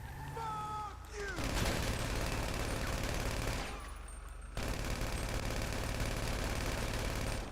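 Sustained automatic gunfire from a GTA 5 Online gunfight, with a continuous dense burst emptying a magazine, a brief lull midway, then firing resuming at the same loud level.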